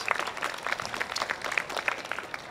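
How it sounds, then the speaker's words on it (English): Applause from an audience at a university teach-in, a steady patter of many hands clapping at moderate distance for a couple of seconds with no talking over it. "go ahead, give them a round of applause"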